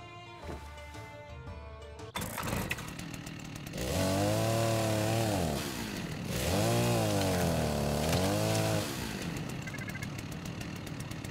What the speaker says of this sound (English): I think we're going to take things up a notch with the scarecrow outfit and the chainsaw.